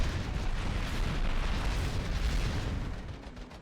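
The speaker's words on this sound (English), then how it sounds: "immediately after the boss, I had to do some platforming to escape the moon before it exploded" A moon blowing up in the side-scrolling action game Iron Meat, heard as a sustained, loud, rumbling explosion roar that fills the whole stretch and eases off slightly near the end, with no voices.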